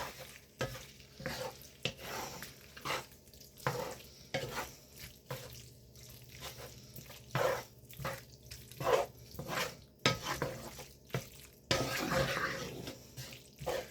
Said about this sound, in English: Give this a good stir.